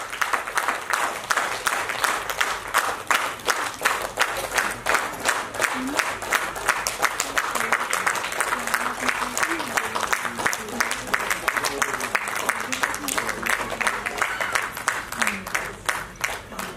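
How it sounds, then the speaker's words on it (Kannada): An audience at a Bombay Bunts Association women's wing Haldi Kunku program in Juinagar applauds the artists with sustained, dense clapping, moderately near, while a voice speaks over the crowd. "ನಮ್ಮ ಜೋರಾಯಿನ ಕೈ ಚಪ್ಪಾಳೆ"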